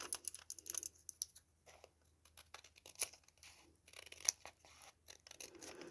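Scissors trim paper while a card envelope pocket is being made, giving quiet, irregular snips and crisp cutting clicks spread across several seconds, close up with no talking.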